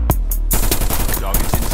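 A Krig 6 assault rifle firing in Call of Duty Mobile, a loud close burst of rapid automatic shots after a couple of single cracks, dense and continuous, with a voice talking faintly over it.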